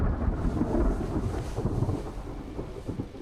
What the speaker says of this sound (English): The storm's far enough away now.